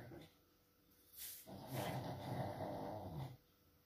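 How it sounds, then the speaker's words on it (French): A dog growls low and rumbling for about two seconds, close to the microphone. A voice is heard briefly around it. "C'est ma chienne."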